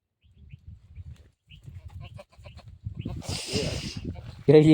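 Goats bleat in a pen, a loud close cry rising near the end after low shuffling, knocking and voices talking.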